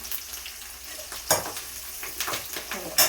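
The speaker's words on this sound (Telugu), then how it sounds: "వేసిన తర్వాత మనం కరివేపాకు వేసుకోవాలి" Curry leaves dropped into hot cooking oil in a pan crackle and sizzle up close, with a continuous fry hiss and several sharp pops and spatters.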